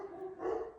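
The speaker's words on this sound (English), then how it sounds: "I apologize about my dogs." Dogs bark from nearby at a home with workers in the yard, giving a short, rough yelp that is moderately loud and heard alone.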